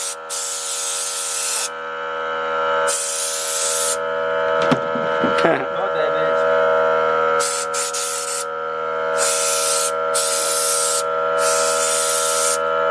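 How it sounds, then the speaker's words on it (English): Rust reformer is spray painted onto a boat trailer frame in repeated loud hissing bursts of a second or two each, over a steady droning hum with a brief clatter in the middle. "and then we can paint it with the rust reformer."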